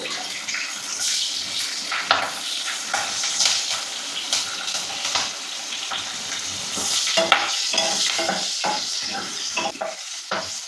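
Green chilies fry in hot oil for a dried anchovy curry, a loud, continuous crackling sizzle with frequent pops and stirring scrapes, close by and without speech.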